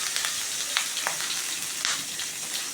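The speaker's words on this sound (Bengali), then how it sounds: "কড়াইটা গরম হয়ে গেছে একটু সরষে তেল দিয়ে দিয়েছি এখন আমি পাতায় বসিয়ে দিলাম" Soft, continuous sizzling of a snakehead fish parcel wrapped in banana leaf frying in hot mustard oil in a wok, with a few faint crackles and pops along the way.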